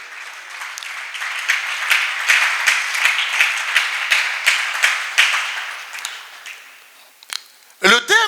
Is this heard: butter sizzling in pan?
no